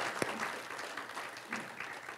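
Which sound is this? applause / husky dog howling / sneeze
applause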